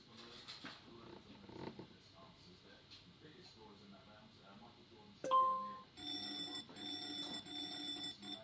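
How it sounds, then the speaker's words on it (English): An indoor fire alarm goes off after being pulled, bursting into a loud, regular electronic ringing partway through, following quiet scuffling room sounds. "I'm going to pull down the fire alarm."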